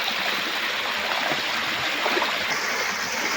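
A stream flows at night during torchlit crab fishing, a constant close rush and gurgle of moving water filling the whole stretch without talk.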